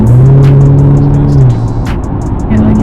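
A 2022 Subaru BRZ cruises on a freeway in Albuquerque with loud, close engine drone and road roar, the pitch dropping partway through, then a steady tone returning.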